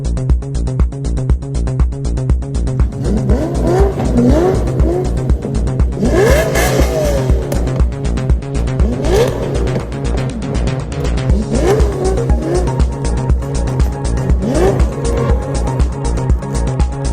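Cars rev hard at a Tokyo City Circuit car event, with loud repeated engine blips and throttle surges in a rapid pulsing rhythm, close by and dominating the scene without speech.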